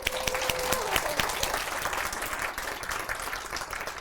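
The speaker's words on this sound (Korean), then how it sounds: "우리 박수 한번." A church congregation breaks into steady applause, dense clapping filling the room for the whole stretch, loud and sustained with no speech over it.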